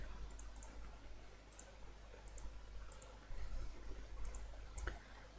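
A computer mouse gives a scattered series of light, faint clicks, about seven in a few seconds, over a low steady room hum.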